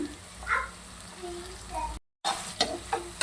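Onions with salt frying in a pan, a soft low sizzle with intermittent stirring scrapes and clatter, cut by a brief silent break, fairly quiet and close.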